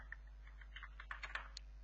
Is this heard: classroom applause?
no